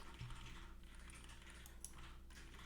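Quiet clicks of typing on a computer keyboard come in a faint, irregular patter over low background hum, with no voices.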